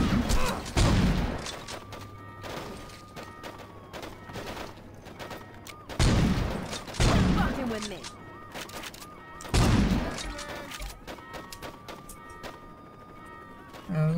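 Shotgun blasts in Saints Row 2 on hardcore difficulty boom out in three loud, widely spaced bursts with brief echoing tails, separated by quieter game noise.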